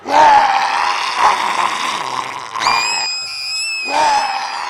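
A woman screams amid street chaos during a violent attack, loud drawn-out shrieks and wails rising and breaking over about five seconds, with a sharper high cry near the end and no other voices.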